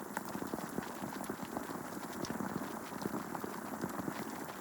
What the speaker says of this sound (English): I don't want to go back out there while it's raining.